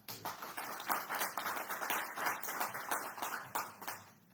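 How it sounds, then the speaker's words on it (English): Audience applause at an indoor talk, a brief burst of scattered clapping from a modest crowd, fairly quiet and heard at a distance, pulsing irregularly for about four seconds. "So I would invite you all to give him a round of applause."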